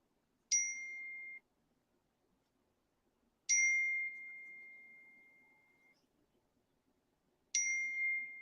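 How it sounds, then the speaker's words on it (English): A phone sounds three separate notification dings, each a bright chime with a ringing tail, spaced a few seconds apart in otherwise near silence. "I'm getting my phone blowing up"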